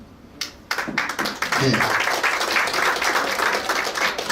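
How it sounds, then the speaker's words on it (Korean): At a year-end party of a regional hometown association, an audience breaks into applause after a quiet opening, swelling into a dense, steady clapping that continues with voices mixed in. "여러분 박수 한번 예, 주세요"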